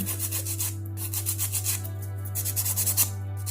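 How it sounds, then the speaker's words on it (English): Quick, repeated scratchy rubbing of a nail file taking the shiny top layer off an acrylic nail, short rasping strokes in an uneven rhythm over a low steady hum. "Next step is to take off this shiny layer with your file."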